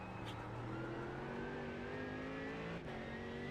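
Race car engines in a sim racing video game, a prototype car among them, drone steadily with rising whine, a continuous layered roar of several cars with no talk.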